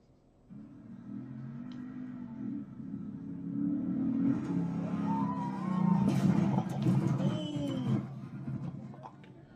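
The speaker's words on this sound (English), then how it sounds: "That was a nice truck, too." A truck drives past as a low rumble that swells to a peak and then fades away, with whining tones rising and falling over it, and no speech.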